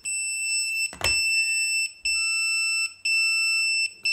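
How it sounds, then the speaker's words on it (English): A Hubsan X4 H123D Jet drone gives off loud, continuous high-pitched alarm beeping that repeats in long tones with short gaps, close and steady throughout. "So you have the loud beeping."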